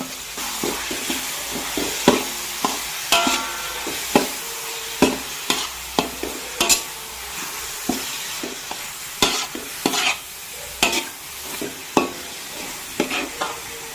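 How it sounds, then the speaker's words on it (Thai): Finely chopped garlic and shallots stir-fried in oil for Thai roasted chili paste, with a continuous crackling sizzle broken by frequent, irregular scraping and clanking strokes of the spatula against the pan, close and loud, with no talk. "กระเทียมสามร้อยกรัม หอมหกร้อยกรัม สับละเอียดเพื่อมาผัดให้หอม"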